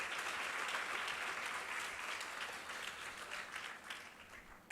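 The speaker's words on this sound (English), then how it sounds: "Just give them a round of applause for them." Audience applause at a student conference, a dense wash of clapping from a large hall that slowly thins and fades toward the end.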